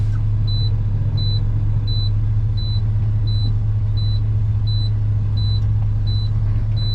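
A semi truck pulling forward at low speed after unhooking its trailer, its engine rumbling steadily while a repeating high beep sounds about twice a second throughout.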